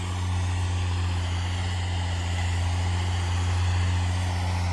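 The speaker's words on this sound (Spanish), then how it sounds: "Allá anda el tractor, miren." A tractor engine runs at a steady low idle while harrowing a field, a deep constant hum with a faint rumble, heard alone without voices.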